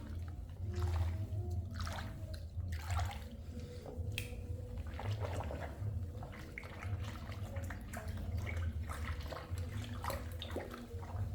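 Clothes being stirred by hand in a basin of water with peroxide bleach, a steady sloshing and splashing that continues throughout.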